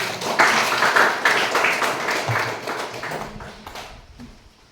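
Classroom clapping from students, a brief burst of hand claps that starts strong and near, then thins and fades out over a few seconds.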